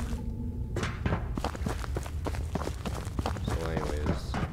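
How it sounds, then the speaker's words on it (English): Footsteps in the horror video game Siren Head: Resurrection thud in a steady run of heavy, evenly spaced steps. A voice talks over them at times. "I heard like footsteps"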